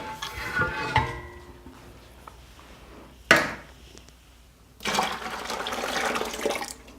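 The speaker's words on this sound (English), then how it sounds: "And now all I need to do is fill this bucket with water." Tap water runs into a bucket for homemade laundry detergent, starting with a sharp gush, pausing, then settling into a steady rushing pour that fills the last seconds, nearby and with no talk.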